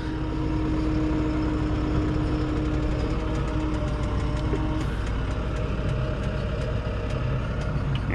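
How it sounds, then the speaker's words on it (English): Large boom truck's diesel engine running steadily while lifting a load off a trailer during a crane offload, a loud low rumble with a faint steady whine, continuous and close, with no talk. "using this big boom truck to lift it up"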